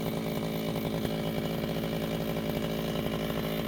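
A grass cutter buzzes continuously as it trims grass beside a rice paddy, a steady loud engine drone with no pauses.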